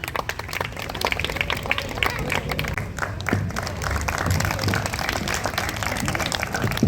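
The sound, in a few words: audience applause at art exhibition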